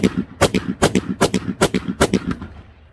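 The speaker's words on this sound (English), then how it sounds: "357 mag dump." Six rapid .357 Magnum shots from a Colt Python revolver ring out at an outdoor range, loud sharp reports in quick succession with a short echoing tail.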